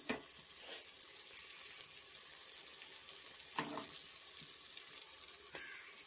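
Tomatoes drop into a hot frying pan and sizzle steadily, with a dense crackling hiss that holds throughout and a few sharper spatters and clinks along the way, close up with no talking.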